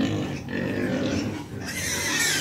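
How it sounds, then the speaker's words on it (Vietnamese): Pigs on a farm before feeding grunt and squeal loudly and continuously, several animals close by with no talk over them. "em xuống em cho cái con heo, mấy con heo này ăn"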